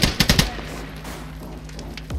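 Gunfire in the Squad military shooter game opens with a quick burst of three loud shots, then fades into a lingering echo and distant battlefield rumble.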